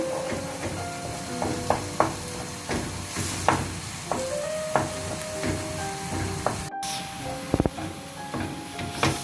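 Egg and chopped vegetables sauté in a pan for shrimp koththu rotti, a steady close sizzle with scattered clinks and scrapes of a spatula against the pan throughout, no talking.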